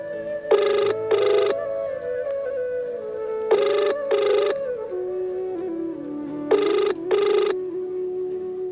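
An outgoing phone call rings in three evenly spaced double-ring pairs, the ringback tone clear and close against a faint background.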